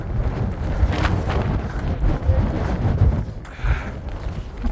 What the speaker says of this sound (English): there's a very strong wind. Very, very strong wind